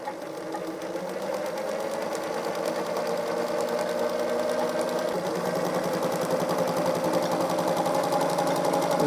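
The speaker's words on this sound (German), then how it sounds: "wir nähen Zickzack mit 2 Fäden und mit einem Linealfüßchen" A domestic sewing machine stitches zigzag with two threads and a ruler foot during free-motion quilting, running in a fast, steady mechanical whir with rapid needle chatter, close and continuous.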